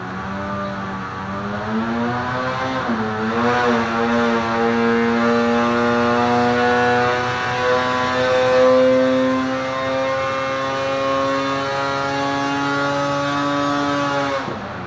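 A Polaris 850 Axys snowmobile engine fitted with a Stage 2 kit runs on a dyno. It rises and dips briefly, then climbs into a sustained, loud, high whine that holds steady before cutting off near the end.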